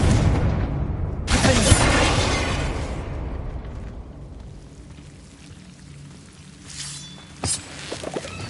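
A Confringo blasting spell in a Harry Potter video game bursts with a loud, broad crackling explosion that decays into a rumbling, pouring rush, followed by fainter sharp pops near the end.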